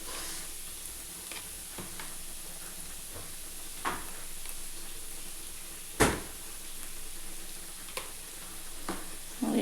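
Ginger-garlic paste sautés in hot oil for doi katla, a soft, steady sizzle with occasional sharp clicks of a spoon against the pan, fairly quiet and with no talking.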